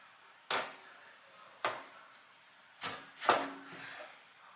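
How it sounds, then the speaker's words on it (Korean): A knife roughly chops tomatoes on a cutting board for a raw Balinese sambal, giving four separate, fairly quiet thuds spaced irregularly against a hushed kitchen background. "토마토는 너무 잘게 다지지 않고 대충 좀 덩어리가 있어야 맛있더라고요"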